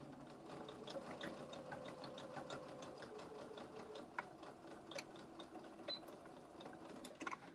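A sewing machine runs steadily through a thick center seam, its rapid needle and gear clatter continuous with occasional sharper clicks near the end, close and moderately quiet.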